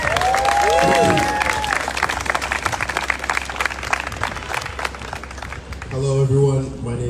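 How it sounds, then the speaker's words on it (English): An audience at the Ranked Choice Boston campaign launch in August 2023 applauds after a speech, a dense, steady patter of clapping with crowd noise that tapers off as voices come in near the end. "Let's give him another round of applause."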